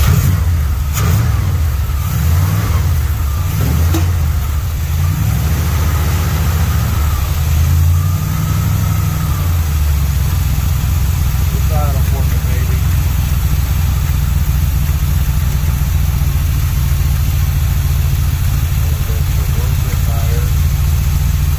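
A carbureted car engine idles roughly after a vacuum leak fix as its idle speed is adjusted, giving a loud steady low rumble with early revs and wavering pitch, and a person talks over it.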